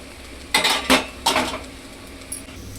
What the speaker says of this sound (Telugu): ఇప్పుడు ఒకసారి మూత పెట్టేద్దాం.